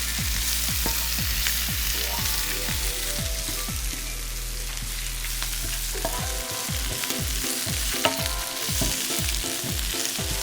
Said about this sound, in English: Now we're going to add our 4 cups of fresh spinach. And I'm going to turn this down a little so we make sure it sautés down